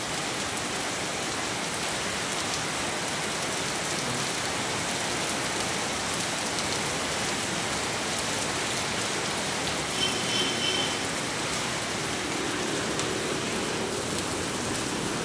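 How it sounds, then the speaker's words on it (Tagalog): Heavy rain pours down at night in a dense, steady hiss, with no voices over it. "Lakas ulan."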